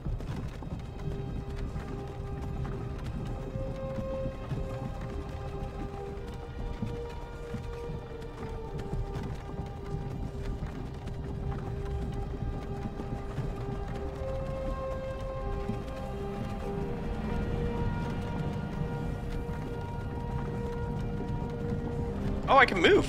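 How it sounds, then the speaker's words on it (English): A horse-drawn carriage in Skyrim clip-clops steadily along with rhythmic hoofbeats and wheel rumble under soft game music, while people talk over it. "be stuck on a horse carriage leading to my death"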